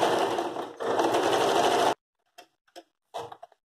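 A sewing machine runs in a steady whirring burst while stitching a straight seam on a floral rug, pausing briefly and then stopping, followed by a few quiet clicks and handling sounds.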